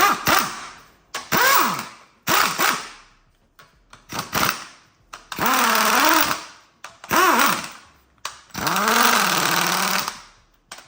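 Impact gun running down used Fel-Pro head bolts on a budget LS engine build, a series of loud rattling hammering bursts, some short and some held for over a second, separated by silent gaps.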